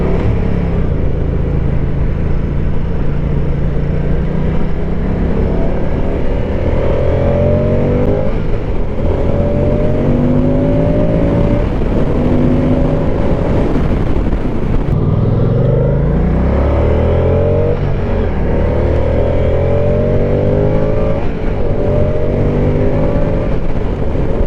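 A 2024 Moto Guzzi Stelvio motorcycle engine accelerates repeatedly, its loud, close rumble rising in pitch through each gear, then dropping at each shift across a long, steady ride.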